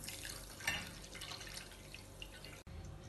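Water is poured from a cup into a pot of sugar on the stove while making amaranth sheera, giving a quiet splash with dripping and trickling that briefly swells then cuts off.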